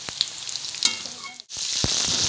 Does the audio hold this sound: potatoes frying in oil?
yes